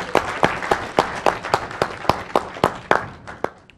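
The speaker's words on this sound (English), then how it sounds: "Can I have a round of applause for Ruth Ann Ellerbach?" A round of applause at a software release overview presentation: a small group clapping in a loose, fairly regular rhythm of distinct sharp claps, close and moderately loud, thinning out toward the end.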